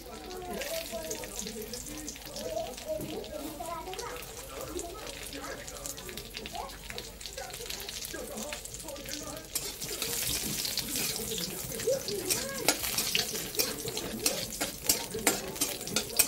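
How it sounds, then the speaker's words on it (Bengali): Cashews and raisins fry in hot ghee in a pan for a sago payesh, giving a steady crackling sizzle. Sharp pops grow busier toward the end, with a voice talking over the frying. "আমি কাজু কিশমিশটা ঘিতে ভেজে নেবো"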